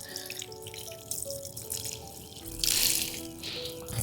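Water trickles lightly from a vessel onto garden soil just sown with beetroot and carrot seeds, a soft steady pour with a brief louder splash near the end.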